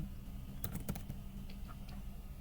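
Quiet, rapid keystrokes on a computer keyboard as a command is typed while configuring a DNS server on Linux Ubuntu, a short run of clicks with a few sharper taps.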